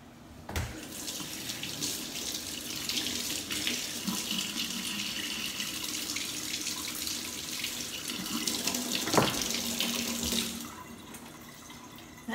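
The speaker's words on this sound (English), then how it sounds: "you're going to immediately scoop it up and rinse it off some cold water" A kitchen tap runs cold water steadily to rinse a freshly boiled soft-boiled egg, a continuous close hiss and splash with slight shifts in tone as the egg is moved under the stream, no voices.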